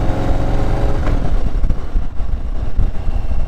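A white 2020 Harley-Davidson Street Glide cruises along with a loud, steady engine rumble and road noise that stay continuous throughout, with no talking.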